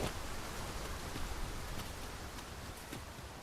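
Steady rain hisses through the Dragon's Dogma 2 game world, with soft rustling and scattered drops over an even wash of noise that thins slightly toward the end.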